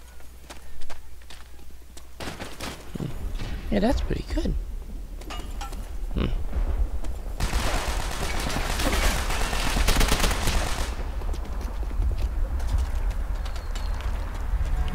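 Rapid gunfire and explosions from a World War II shooter game set near an airfield, with MP40 submachine guns among the weapons, crackling in dense bursts that swell into sustained heavy fire while someone talks over it.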